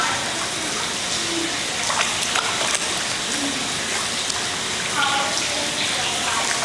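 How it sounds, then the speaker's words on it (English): Water splashes and churns steadily in an outdoor swimming pool, a close, continuous wash of sloshing and droplets with faint voices of children playing in the background. "You want splash, splash, splashes?"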